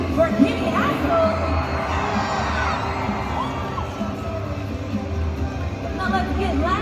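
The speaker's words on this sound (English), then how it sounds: "Let me hear you scream for Kenny Haskell" Arena crowd at a Monster Jam show in Milwaukee's Fiserv Forum roars with screams and cheers, a dense, continuous wash of voices that stays loud throughout, with scattered whoops rising above the din.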